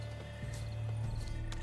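Horses clip-clop in The Witcher 3: Blood and Wine, a few hoof knocks over a steady low game ambience with faint tonal hum, fairly close, without clear neighing.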